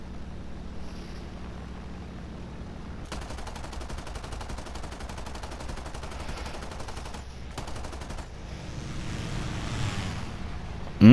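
Rapid aircraft machine-gun fire in a video game dogfight, sustained for several seconds in long bursts over a steady engine and wind drone, with no talking.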